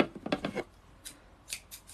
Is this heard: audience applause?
no